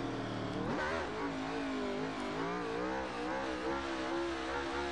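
An Aprilia Tuono V4 1100 Factory 2015 motorcycle in the racing game Ride 2 revs hard, its engine note rising sharply then holding a steady, buzzing high drone at close range.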